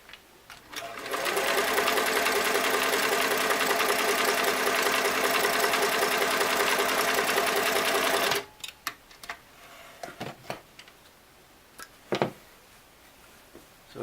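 A restored Singer Model 337 sewing machine runs a stitch for several seconds, a steady close mechanical whir and rapid clatter, then stops, leaving scattered handling clicks and knocks.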